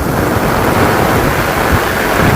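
Stormy heavy rain pours down in a village as a dense, loud, continuous roar, with wind gusts filling the sound throughout.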